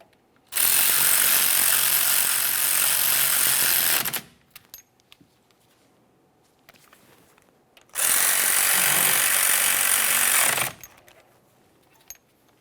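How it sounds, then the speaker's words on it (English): Power ratchet running down brake caliper slider mounting bolts on a 2017-2024 GMC Acadia rear brake: two loud, sustained buzzing whirs of about three to four seconds each, close by, with a quiet gap between them. "We'll start those in by hand, snug them up."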